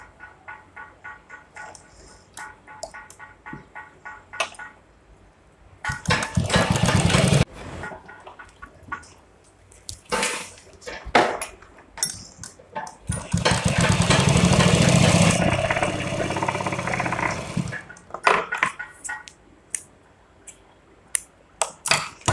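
Sewing machine stitching a curved pocket onto palazzo pants: bursts of rapid mechanical whirring and chattering, longer runs in the middle, separated by short pauses and small clicks.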